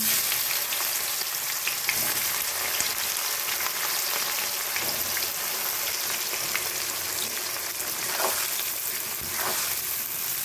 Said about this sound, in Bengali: পেঁয়াজটা বেশ লাল লাল করে ভেজে নেব।